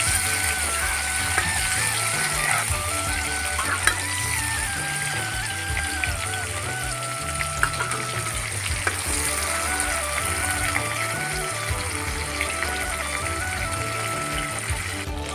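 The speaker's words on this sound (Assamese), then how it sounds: "এতিয়া পনীৰখিনি ভালদৰে ফ্ৰাই কৰি লওঁ অলপ।" Paneer cubes frying in oil give a continuous close sizzle with faint stirring scrapes, unbroken and without speech for the whole stretch.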